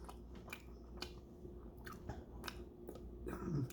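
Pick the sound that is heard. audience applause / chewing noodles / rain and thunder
chewing noodles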